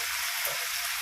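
Tomatoes sautéing with rock salt in a pan give off a steady, close broadband sizzle with a faint crackle, continuous and alone without talk.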